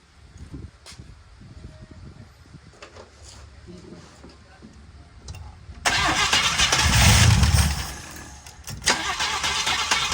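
An old barn-find car engine cranks and catches, roaring loudly to life for a few seconds before settling and surging again, preceded by quiet rustling and handling noises with people talking nearby.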